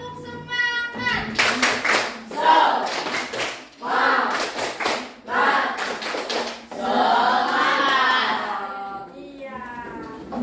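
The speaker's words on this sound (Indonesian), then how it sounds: "Coba kita tepuk semangat" A classroom of children does a rhythmic spirit clap, bursts of patterned hand claps alternating with chanted group voices, loud and close, filling most of the stretch.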